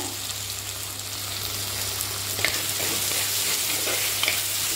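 Tomato and onion sautéing in a frying pan with salt added, a steady close hiss of sizzling oil with occasional stirring scrapes, continuous and alone.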